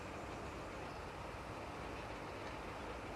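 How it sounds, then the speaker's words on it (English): Rumbling train noise in Farming Simulator 22 on the Elm Creek map, the train apparently broken down, a steady dense mechanical roar with no breaks throughout. "It sounds like your train's broken."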